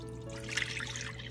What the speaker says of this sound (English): So first, what I'm gonna do, I'm gonna add my milk.